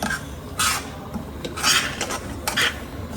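A spoon scraping and stirring a mixture in a pot over a gas flame during festive cooking, with several bursts of metallic scraping and clinking against a low background.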